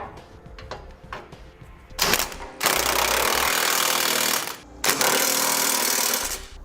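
A power wrench tightens base plate subframe bolts on a vehicle, with faint clicks followed by two loud, sustained rattling bursts up close.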